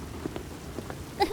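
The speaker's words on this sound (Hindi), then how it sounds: "आसमान में काली घटाएं घिर जाती हैं और जोर जोर की बारिश होने लगती है" Heavy rain pours down with hail in an animated cartoon, a steady hiss of drops with scattered pattering hits and a brighter clatter near the end.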